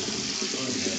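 Tap water pours steadily into a sink for a brief moment, a close, continuous rushing splash with no break.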